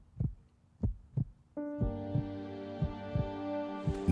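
Heartbeat sound effect: steady deep double thumps, close and loud, joined partway through by a sustained musical tone while the pulse continues underneath.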